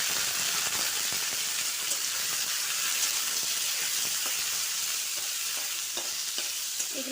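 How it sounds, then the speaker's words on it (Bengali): Paneer pieces fry in white oil in a wok, giving a steady, close, dense sizzle that runs the whole time, with faint scrapes and light stirring knocks scattered through it. "আমি পনিরগুলো দিয়ে দিচ্ছি ভেজে নিতে।"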